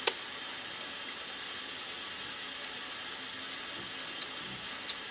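A StarStream water jet sprays steadily over a glass jam jar to clear sticky label residue, a constant hissing rush broken by a few faint clicks and taps.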